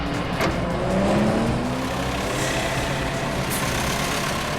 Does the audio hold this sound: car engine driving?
yes